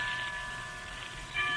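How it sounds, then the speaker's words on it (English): Soft ringing chimes with sustained tonal shimmer over a quiet ambient hiss, steady throughout and slightly brighter near the end. "Why don't we both just sit here and listen to the chimes for a while?"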